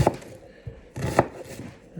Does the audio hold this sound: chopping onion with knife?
yes